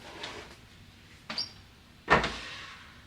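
A closet door slides along its track in a few short bursts, a faint rumble followed by a louder scraping slide near the end, heard close and without voices.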